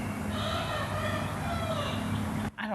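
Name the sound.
chickens and roosters clucking and crowing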